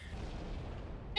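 Explosions in the video game Halo: The Master Chief Collection roll on as a continuous low rumbling barrage, then a sharper, louder blast bursts in at the very end.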